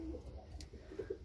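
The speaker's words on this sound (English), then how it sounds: "I'm not a big fan of these birds, but I gotta say these ones are kind of cute." Racing pigeons in a loft give a few faint, low cooing notes against a quiet indoor background, with no talking.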